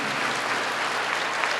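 A church congregation claps during a service led by an apostle, dense, even applause filling the room at moderate loudness without pause.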